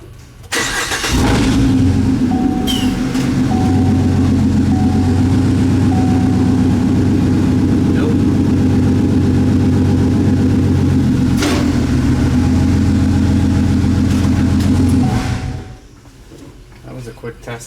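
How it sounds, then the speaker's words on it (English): Twin-turbo V6 in a 2014 Sierra truck starts up and runs loudly at a steady idle for about fourteen seconds, then shuts off abruptly, leaving quiet background. "Let's start the truck and see if we get any mile an hour."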